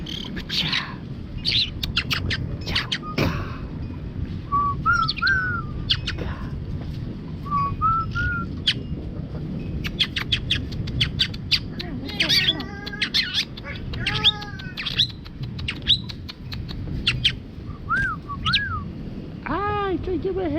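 A pet bird squawks and gives rising whistles and chirps indoors, loud and close in repeated bursts, while people talk nearby over a constant background hum.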